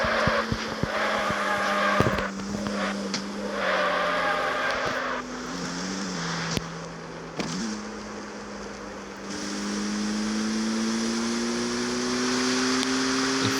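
A car sliding and drifting in the street-racing video game CarX Street, with a steady engine drone that rises in pitch and a long tire skid, all loud and continuous with no talk.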